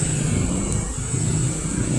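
Cars rolling slowly through a flooded street, with a steady low engine rumble and continuous wash of water, nearby and unbroken.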